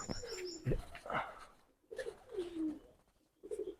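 Soft, low pigeon cooing from a pigeon loft in a few separate phrases, with quiet gaps between them and faint background noise.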